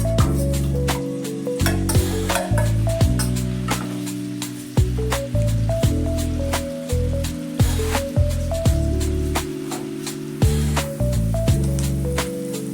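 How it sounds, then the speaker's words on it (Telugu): Paneer pieces frying lightly in a little oil in a pan, a steady crackling sizzle with regular stirring knocks against the pan over a rhythmic background tune. "ఇప్పుడు ప్యాన్లో కొంచెం ఆయిల్ పోసుకుని ఈ పన్నీర్ ముక్కల్ని లైట్గా ఫ్రై చేసుకుందాం"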